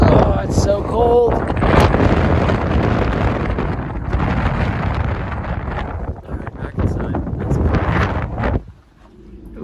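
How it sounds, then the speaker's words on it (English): Wind gusting across a sailboat on a cold, windy day, a loud blustery roar buffeting the microphone with irregular surges, while a person speaks over it before it drops away near the end. "Windy day"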